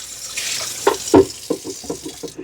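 Dirty water pours and splashes out of the waste tank of a Eufy robot vacuum into a sink, with several gurgling glugs and spatters close by, no talking.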